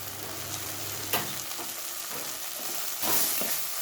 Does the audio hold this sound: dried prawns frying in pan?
yes